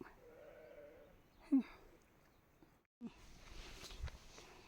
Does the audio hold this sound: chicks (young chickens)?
no